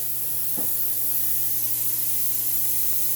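A steady, broad hiss of air escaping from a hyperbaric chamber valve continues unbroken throughout, with a faint low hum beneath it and no talking.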